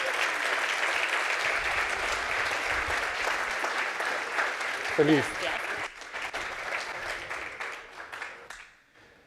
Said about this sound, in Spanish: pido para ella un fuerte aplauso.